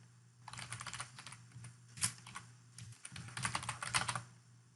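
Fingers tap on a computer keyboard while an email address is entered into a form, a quiet run of quick keystrokes in two bursts with a brief pause between, no voices.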